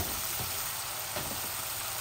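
Chili and spices frying in a pan with a splash of water hiss and sizzle steadily at low volume, alone without talk.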